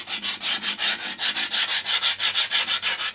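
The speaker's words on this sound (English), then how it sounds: "now what I'm going to use is a sanding block" A sanding block with 80 grit paper rubs back and forth on wood in a fast, even rhythm of about five strokes per second, each stroke a loud, close rasping hiss, with no talk.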